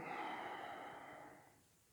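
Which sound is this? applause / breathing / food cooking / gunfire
breathing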